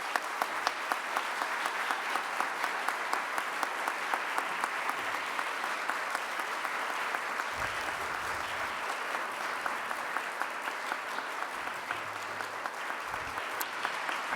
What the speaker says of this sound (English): You guys clapped so well